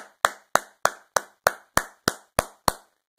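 Two hands clap nine times in an even, evenly spaced rhythm, each sharp crack close and distinct with silence between, ending in a short quiet gap.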